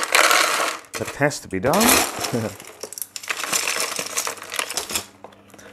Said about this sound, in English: So what I first do is I put a layer in of this big pumice. That does make some noise